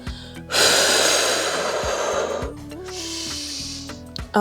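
Forceful, noisy exhalations during a pelvic floor strengthening workout, one long breathy blow followed by a second softer one, close and loud over a low musical background.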